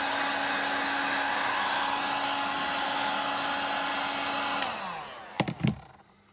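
A heat gun blows a steady, loud airy roar while shrinking a heat-shrink grip over a wooden handle, then switches off and winds down, followed by a few sharp handling clicks.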